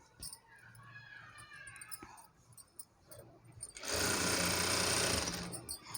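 A regular domestic sewing machine stitches the fall onto a saree, a loud fast whirring run of stitches near the end after quieter handling sounds and soft talk.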